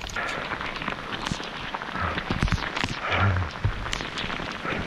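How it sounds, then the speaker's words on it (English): Rain patters and splashes on nearby surfaces along Los Burros Trail, with irregular louder drops and taps over a steady hiss. "It's definitely raining."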